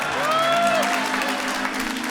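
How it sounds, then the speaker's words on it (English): An audience at a spoon-bending magic show applauds steadily for a couple of seconds, a broad wash of clapping with a brief whistle-like tone near the start. "a big round of applause"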